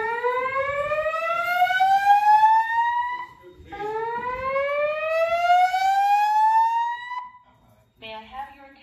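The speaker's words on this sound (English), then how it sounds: "There has been a fire alarm reported in the building" A first-generation LED fire alarm sounds loud and close in a building, sweeping upward in long whooping tones twice, then briefly switching to a shorter, different tone.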